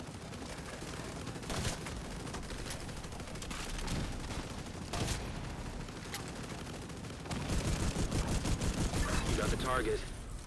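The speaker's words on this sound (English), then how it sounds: "I guess they're just shooting." Video game gunfire crackles in rapid volleys and bursts throughout, with overlapping shots of varying distance and a denser barrage toward the end.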